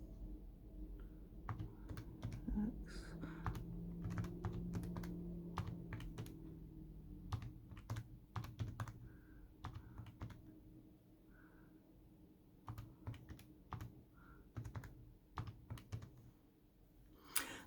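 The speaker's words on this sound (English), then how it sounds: "I'm going to go back in and type in all the senator data" Someone types data on a computer keyboard, with rapid close clicking keystrokes in irregular bursts over a faint background hum, no speech.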